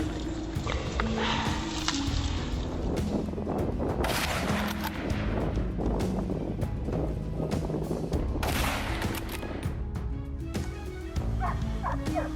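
Sharp gunshots crack amid frantic dog barking and yipping during a wild boar hunt on a Texas farm, with chaotic, loud activity throughout.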